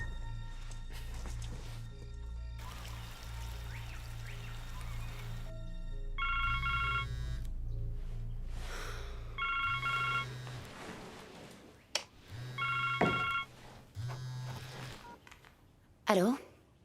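Telephone rings in repeated short bursts between quieter stretches, with a voice and other room sounds in between.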